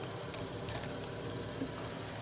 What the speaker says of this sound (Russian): Вот такие штучки попадаются на ремне, и поэтому создается свист.